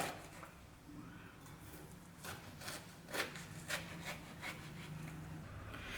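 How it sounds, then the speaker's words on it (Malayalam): A knife cutting off a portion of an ash gourd in a kitchen, heard as a series of soft, scraping strokes with a few sharper cuts, close and fairly quiet over a steady background hum. "ഈ ഒരു പോർഷൻ നമുക്ക് കട്ട് ചെയ്ത് മാറ്റാം"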